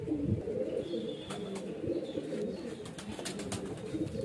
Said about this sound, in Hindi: हमारे घर के जो लाल अंबरसरी कबूतर हैं